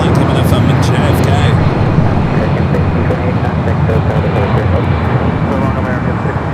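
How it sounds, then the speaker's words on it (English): Steady engine rumble of a Delta airliner arriving at LAX from JFK, a continuous broad roar with a few brief high-pitched whines early on, while a voice talks over it. "Flight coming in from JFK"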